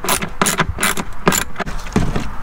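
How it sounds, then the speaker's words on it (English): Ratchet tightening the nuts on a coolant reservoir in a 1997-2004 C5 Corvette with an LS1 engine, heard as close, repeated bursts of clicking with short pauses between strokes. "now we just gotta tighten these bolts down, these nuts down."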